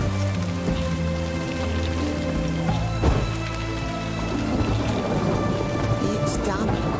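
Steady rain falls in the video game The Witcher 3: Heart of Stone, a dense constant hiss with low thunder rumbling beneath and a sharper clap partway through.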